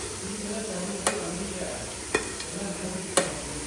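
Masala is sautéed in a pan in a home kitchen: a steady sizzle of frying runs throughout, with three sharp clacks of a spoon against the pan at roughly even intervals.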